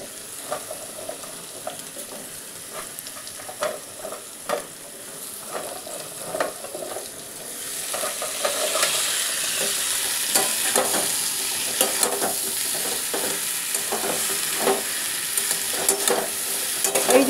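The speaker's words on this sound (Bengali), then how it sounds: "এই যে এখন আমার ভাজার পর্ব চলছে" Drumstick (moringa) pieces fry with poppy seed paste in a pan, a close sizzle punctuated by repeated stirring scrapes that grows louder and denser about halfway through.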